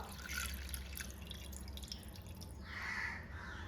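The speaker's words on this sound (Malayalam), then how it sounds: "ഒരു അരക്കപ്പ് വെള്ളം ഒഴിച്ചു കൊടുത്തിട്ടുണ്ട് ഇതിലേക്ക്" Water poured into a pot of Kerala-style mango curry, a steady trickling, dripping pour that runs through the whole stretch at moderate level, with no talking.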